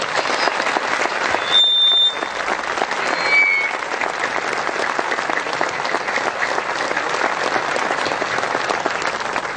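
A church congregation bursts into loud, sustained applause that fills the space evenly from start to finish, with a brief swell near the beginning.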